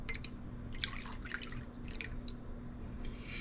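A cup of milk poured into chicken pot pie filling with celery and onions, a gentle trickling, dripping liquid sound up close, soft and steady with no speech.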